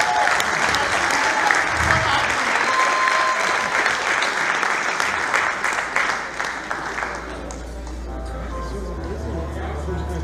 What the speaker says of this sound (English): I want you to give a huge, huge, huge round of applause to Mr. Farhad, sitting on the big table.